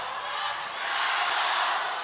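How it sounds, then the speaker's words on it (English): Basketball crowd in a Sydney arena at a women's Asia Cup game between China and Lebanon, chanting in support of Lebanon as a broad sustained roar in the background, steady and moderately loud without distinct words. "You can hear the crowd in the background chanting"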